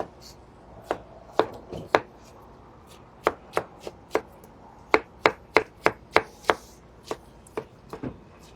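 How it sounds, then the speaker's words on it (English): A knife finely chopping pineapple on a board in a meat shop kitchen, producing brisk irregular bursts of crisp taps, close and clear with quiet room noise between strokes. "now I'm just going to chop this up really fine because it's going in the sauce"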